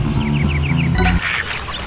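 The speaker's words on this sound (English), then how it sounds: "So ducks." Ducks quacking in the game Roundabout: a quick run of about five bright, nasal quacks in a steady rhythm, close and loud, followed by a deeper honk and a noisy splash-like tail.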